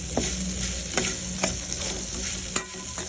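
Spiny gourd pieces fry in a pan, giving a steady close sizzle broken by several sharp clinks and scrapes of a stirring spoon.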